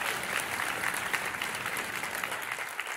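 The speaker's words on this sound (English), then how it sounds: "That's great. Round of applause." A company audience gives a round of applause at a launch-week talk, steady, dense clapping filling the room for a few seconds without pause.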